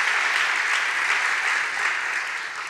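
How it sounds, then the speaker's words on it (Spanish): A congregation at a church service breaks into sustained applause, a dense, even roar of clapping that holds steady and eases off slightly toward the end. "dale el aplauso a Jesucristo"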